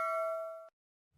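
A single bright notification bell ding rings clearly and decays for about half a second, then cuts off into silence.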